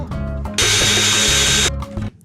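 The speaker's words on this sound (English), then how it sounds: "I'm definitely breaking your drill, by the way." A handheld power drill whirs at high speed for about a second in the middle, loud and close, with quieter mechanical shop noise before and after.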